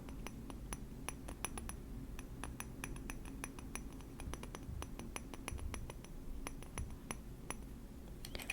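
Fingertips tap lightly on a good-quality glass makeup brush holder, making crisp, bright clinks in quick irregular bursts and scattered single taps over a quiet background.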